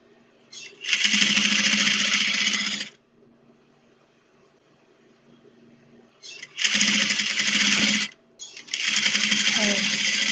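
A sewing machine chain stitching a tote bag runs in three loud, steady whirring bursts of a few seconds each, separated by quiet pauses.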